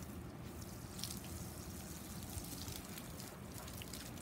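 Steady running and splashing water as Timkin is given a bath, a continuous dripping, pattering wash with no voices.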